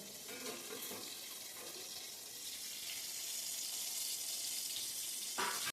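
Rice and pointed gourd cooking in a pan give a continuous, even sizzling hiss that holds steady throughout. A short, sharp burst comes just before it cuts off.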